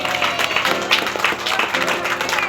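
Wedding guests inside Amparo Church in Butuan City applaud the newly married couple. Steady, close, dense clapping fills the whole stretch, with voices mixed in.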